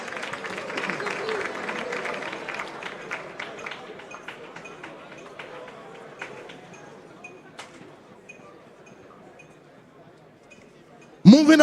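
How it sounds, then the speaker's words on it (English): Audience applause at a national school science and maths quiz grand finale on stage, broad clapping with some clinking, fading gradually over about ten seconds before a sudden loud burst at the very end. "round of applause."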